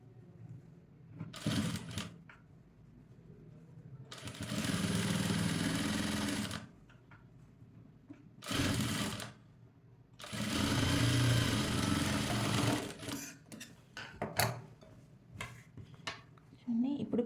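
A sewing machine runs double stitching on a cutwork blouse in several bursts of steady whirring, with quiet gaps and light handling clicks between them.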